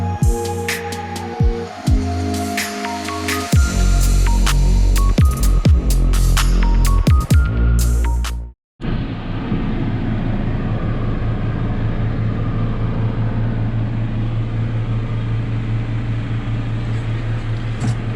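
A farm tractor with a mulcher shreds vegetation on a field margin, a loud steady droning engine with a grinding whir. The drone holds for about ten seconds after a brief dropout, following a stretch of music.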